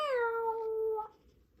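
A person's voice imitates a cat with a single drawn-out meow, falling in pitch and then trailing off, close and clear against a quiet background.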